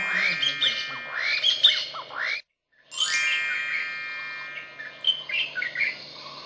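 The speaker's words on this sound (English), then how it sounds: "Helpers use special equipment to collect bird sounds." Recorded bird calls play back as a dense stream of chirps, tweets and squawks, close and fairly loud, with a short silent gap near the middle before the calls resume, with no talking.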